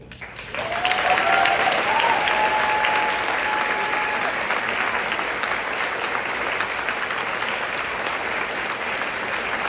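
An audience applauds at the awards close of the 41st Young Texas Music Competition, with a dense, steady roar of many hands that starts suddenly and carries on loud for several seconds.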